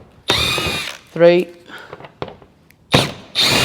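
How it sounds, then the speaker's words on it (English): A cordless screw gun backing out T30 screws from a Mk8 Fiesta ST torque mount, several short whirring bursts separated by pauses, close and loud, with a man counting between them. "I'm going to use a gun today"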